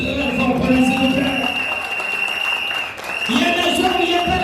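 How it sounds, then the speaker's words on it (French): Wedding guests at a civil wedding ceremony break into loud, sustained applause with crowd noise and voices mixed in. The clapping briefly dips before swelling again. "je demande que l'on applaudisse très fort pour les autres"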